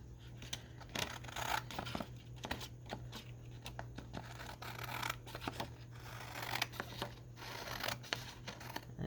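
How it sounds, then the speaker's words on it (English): Scissors snip steadily through paper while a decorative junk journal page is trimmed, giving a close, continuous crisp cutting and rustling texture with no talking. "I love the sound of cutting, of paper being cut."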